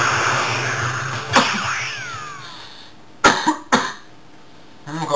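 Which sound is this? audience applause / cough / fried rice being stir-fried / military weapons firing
cough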